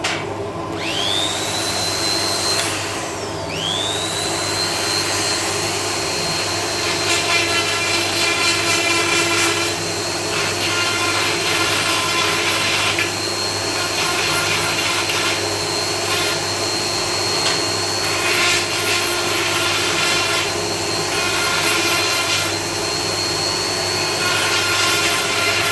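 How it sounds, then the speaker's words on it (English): A loud, continuous grinder works a metal part for the pins of a large rack in a lathe workshop, a steady roar with a whining tone that rises and drops as contact with the workpiece starts and stops. "I need also to grind this part"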